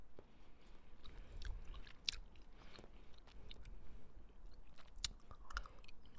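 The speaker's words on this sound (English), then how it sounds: "but now I'm just chewing." Someone chewing a chewy edible up close, soft wet mastication with occasional sharper clicks, quiet and continuous, no talk.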